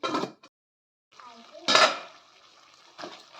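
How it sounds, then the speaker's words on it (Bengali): A metal lid clatters onto a pot of cauliflower samosa filling with a bright clank, followed by a brief scraping rattle and a softer knock of cookware. "এবার ঢাকাটা দিই।"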